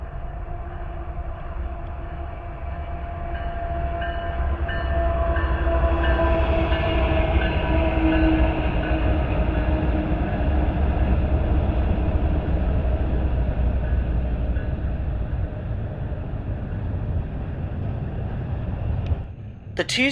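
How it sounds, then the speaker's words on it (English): A westbound BNSF intermodal freight train on the Chillicothe subdivision, with C44-9W locomotives and a trailing Norfolk Southern unit, rumbles past at close range, a loud sustained roar of engines and rolling wagons that swells midway and holds to the end. "on this westbound intermodal train on the Chillicothe subdivision, it actually had 2 of them"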